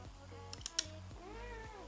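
Pet cat meowing indoors: a few soft clicks and taps come first, then one drawn-out meow with a rising-and-falling pitch, close and fairly quiet.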